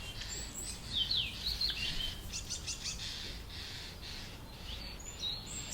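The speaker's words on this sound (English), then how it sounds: "we can also just listen to the birds singing" Birds chirp and trill in quick bursts above a steady outdoor background hum in Paris, fairly close and moderately loud.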